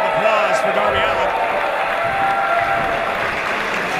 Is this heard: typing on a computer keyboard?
no